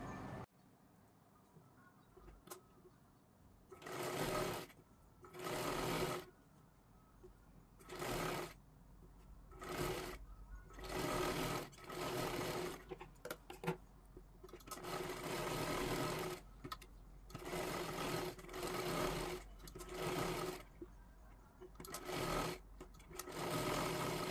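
A sewing machine stitches a blouse in repeated bursts of a few seconds each, separated by short pauses, close and loud, with faint bird sounds in the background.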